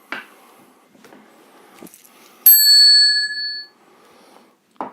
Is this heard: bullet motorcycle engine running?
no